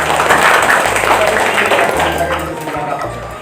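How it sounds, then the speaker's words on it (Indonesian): Applause from an audience at an elementary school event for a student who placed first in a district solo competition, with broadband clapping sustained throughout under a low hum and some background voices. "Tepuk tangan dong."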